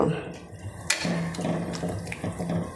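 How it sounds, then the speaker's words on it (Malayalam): Hot water is poured into ground roasted masala paste for a soybean curry, a soft splashing trickle near the microphone that runs on steadily after a brief clatter. "ചൂടുവെള്ളമാണ് ഒഴിച്ചത് കേട്ടോ."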